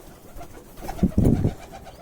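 Racing pigeons cooing inside a loft, a short soft burst of low throaty coos close by, with no talk.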